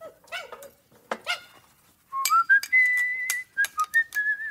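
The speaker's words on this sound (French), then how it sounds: "ça ne vous dérange pas que je siffle?" A man whistles a short tune alone, clear sustained notes and quick slides in a quiet room, following a few brief dog-like yelps and squeaks at the start.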